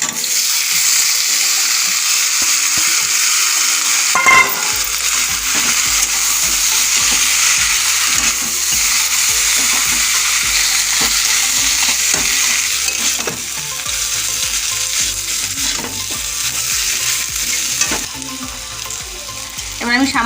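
Banana flower and potato, with red chili powder and turmeric, fry in a pan. A loud, continuous sizzle runs throughout, with frequent stirring scrapes and clatter and no talking.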